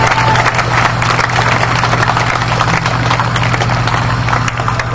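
A crowd at a memorial service applauds steadily, many hands clapping in a dense, sustained burst that carries on throughout.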